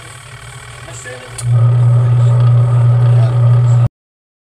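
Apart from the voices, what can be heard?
Sharp washing machine motor running, pulsator not spinning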